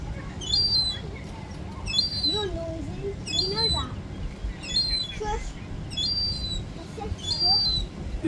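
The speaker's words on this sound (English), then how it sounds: "Look at this baby seagull." A baby seagull calls in repeated short, high chirping cries at roughly one-second intervals, with soft lower squawks in between, over faint background noise and quiet voices.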